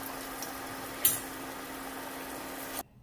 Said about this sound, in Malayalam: ബാക്കി നമുക്ക് ഇതുപോലെ വറുത്തെടുക്കാം.